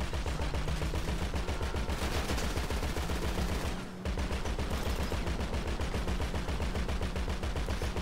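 Continuous rapid machine-gun fire with unlimited ammo in the GTA V video game, a steady, evenly spaced stream of shots with one brief pause midway.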